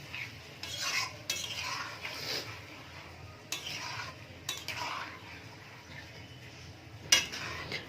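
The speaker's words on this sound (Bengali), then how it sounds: "ভালো করে নাড়াচাড়া করে" A spoon stirs chili chicken in a pan in bursts of scraping and clinking at close range, with quieter lulls between the strokes and a sharp clatter near the end.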